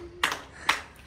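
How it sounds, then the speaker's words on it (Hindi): A few hand claps ring out, three sharp, well-spaced smacks close by within about a second, with a quiet room in between. "एक बार ताली बजाओ सारे"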